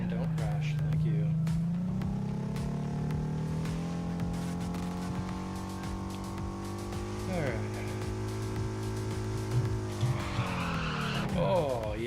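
A car drifting in the video game Torque Drift 2, with a high sustained engine tone and long continuous tire squeal as it slides through turns. The car noise is loud and steady throughout, with the engine pitch shifting near the end.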